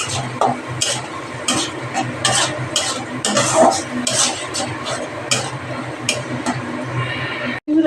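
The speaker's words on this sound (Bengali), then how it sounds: "এবার ভালো করে কষাবো" Pointed gourd and mung dal curry sautéed in a pan, a continuous sizzle with rapid repeated spatula scrapes and stirring strokes, loud and close, ending with a sharp clank.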